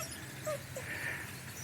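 A dog out on a walk lets out a couple of faint, short high whimpers and squeaks against a steady outdoor background.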